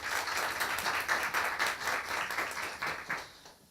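Audience at a career Q&A talk seminar claps for the three guest speakers, a brisk crowd of many hands at moderate level that fades out in the last half second.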